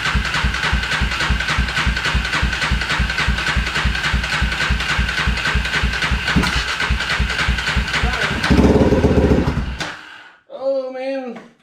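An abandoned Polaris Predator 500 ATV engine being restored turns over in a steady, rapid rhythmic chugging cranking attempt. The cranking stops abruptly and a voice reacts.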